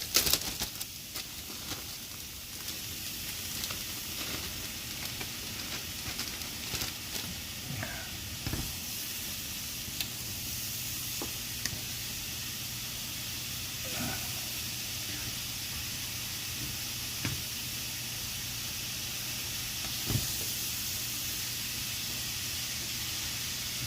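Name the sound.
mushrooms frying in pan for vegan Japanese fried rice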